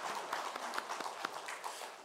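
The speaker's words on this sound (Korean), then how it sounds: "하나님 앞에 영광의 박수 올려드리겠습니다" A church congregation claps together during a Sunday worship service, a steady patter of many hands with a few sharper individual claps, moderately distant and fairly quiet in a reverberant sanctuary.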